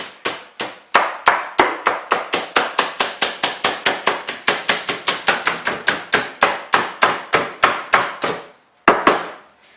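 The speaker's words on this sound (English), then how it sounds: "I do have a little rubber hammer." A rubber hammer taps wood for a Langstroth beehive in a steady, fast series of dull knocks, about four per second, close and loud, ending after a short pause with two more hits.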